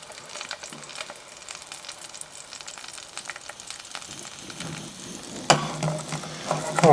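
Blackfish fillets fry in a hot pan with a steady crackling sizzle close up, growing louder and busier toward the end as the heat rises, with occasional scraping clicks.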